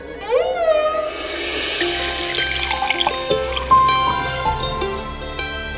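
Water is poured in a steady, splashing stream that lasts several seconds, fairly close and continuous, with other faint sounds in the background.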